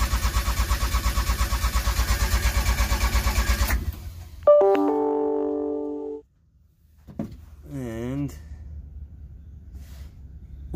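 A mechanically injected diesel engine cranks over with its fuel shutoff solenoid disconnected, so it never fires: a loud, rapid, even chugging of the starter for about four seconds, then it stops, followed by some electronic tones and a short whoop.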